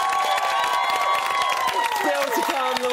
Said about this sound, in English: give him a massive round of applause